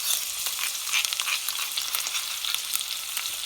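Ginger and garlic paste with a green chili sizzling and spitting in hot oil with whole spices for a chicken curry, a steady bright hiss with crackling pops, close and continuous.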